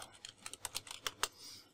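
Fingers typing on a computer keyboard, a quick irregular run of crisp key clicks about a dozen strokes long, close and fairly quiet, with no talking.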